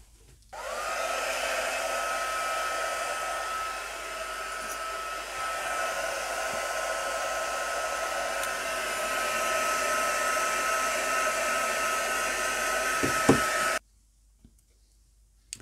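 A heat embossing tool blows hot air over embossing powder on a glossy card, a loud, steady whirring hum that starts abruptly, runs without a break for about thirteen seconds, then cuts off.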